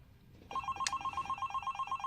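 A cellphone ringing, a bright electronic tone that starts abruptly and repeats in quick regular pulses, fairly clear and close with low background noise.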